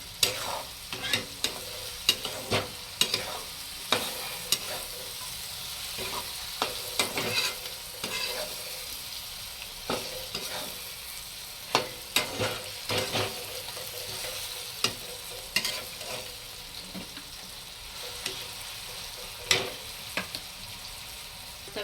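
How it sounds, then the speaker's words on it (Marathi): Masala is stirred into frying eggplant bharta in a pan, with a steady sizzle and repeated sharp scrapes and taps of the spoon against the pan, close and continuous, with no talking. "चांगलं हलवून घ्यायचं आपल्याला मसाला मिक्स करून घ्यायचा"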